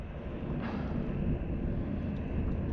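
A boat engine drones in a low, steady rumble at a fishing spot in Arroyo City, continuous and at a moderate distance, with wind noise washing over it and no talk.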